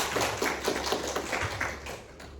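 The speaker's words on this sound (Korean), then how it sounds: "특별히 우리 찬양 팀들을 위해서 박수 한번 쳐주겠습니다." A church congregation claps for the worship praise team, a short burst of scattered, fairly soft hand claps in an indoor hall, fading out near the end.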